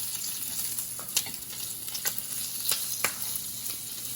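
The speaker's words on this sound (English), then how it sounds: "Flip the bacon over." Bacon frying in a pan gives a steady, faint crackling sizzle with occasional sharper pops, close up and fairly quiet, with no talking.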